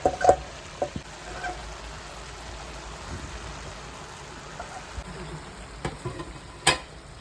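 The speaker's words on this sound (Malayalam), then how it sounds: "ഇനി അത് ഒന്ന് ഇളക്കി യോജിപ്പിക്കുക." A jackfruit seed and drumstick stir-fry with garlic and salt is stirred in a hot pan, giving a steady soft sizzle with a few sharp spoon scrapes near the start and one more near the end.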